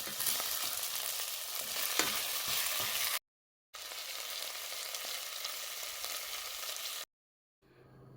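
Onions sizzling steadily in a pan while being stirred, a dense continuous frying hiss with occasional scraping, broken by two short silent cuts near the end.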